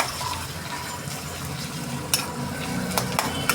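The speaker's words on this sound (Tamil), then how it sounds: "வதக்கணும்" Chillies sautéing in a pan for a Tamil-style fish curry, a steady close sizzle with a few sharp clinks of a spoon against the pan.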